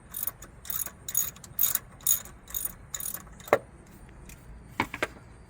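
A ratchet loosens alternator bolts on a 2002 Ford Crown Victoria, giving several quick runs of sharp clicking followed by a couple of isolated metallic knocks, close up with no talking.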